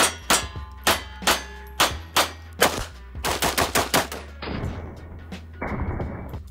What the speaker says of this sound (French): Le gars, il se pratique du tir dans la main gauche.